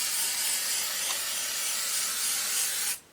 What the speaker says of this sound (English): We're just going to give that a spray.